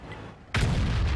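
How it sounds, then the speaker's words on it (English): A Jagdpanzer E100 tank destroyer in World of Tanks fires its big gun once, a sudden loud, close boom that rolls into a sustained rumbling blast. "And there's my first shot of damage."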